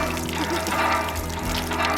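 Water gushes steadily from a repaired borehole in the Jafurnga community, a close, continuous splashing flow with no break.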